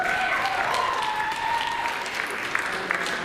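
Audience applause fills the room steadily, a dense continuous wash of clapping from a crowd, moderately loud and sustained throughout.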